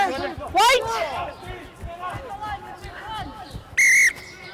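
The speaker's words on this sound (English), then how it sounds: "Wait for my whistle" Two sharp, loud blasts of a referee's whistle at an under-15 rugby league final, one early and one near the end, over a player's shouted calls and crowd noise.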